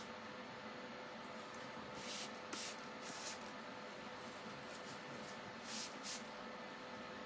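Several short spray bursts onto fingers, close by, over a steady hiss of background noise, during resin work; no talking.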